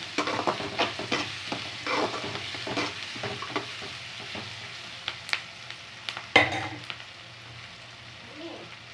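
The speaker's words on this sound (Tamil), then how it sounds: "பூண்டு கொஞ்சம் போட்டுக்கோங்க நல்லா பச்சை வாசனை போகிற வரைக்கும் அது போட்டுக்கோங்க" Garlic fries in a pan for a Tamil karamani kuzhambu, a loud close sizzle broken by repeated scraping spoon stirs and one sharp clatter, fading to a quieter hiss at the end.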